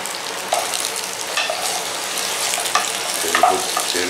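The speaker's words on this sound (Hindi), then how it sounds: "इस तेल में शिमला मिर्च डाल देंगे," Sliced capsicum sizzles and fries steadily in hot oil in a non-stick pan, a continuous close crackle with a few brief stirring clinks, no voices.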